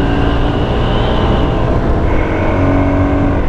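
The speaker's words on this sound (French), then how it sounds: "la sonorité du bicylindre en L" Ducati Monster 696 L-twin motorcycle engine running steadily and loud throughout, a dense continuous drone with a slight shift in pitch midway, no talking.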